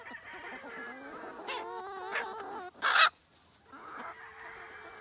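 On a two-acre homestead, free-range chickens cluck and warble in wavering calls close by, then a sharp loud squawk bursts out briefly before softer clucking resumes.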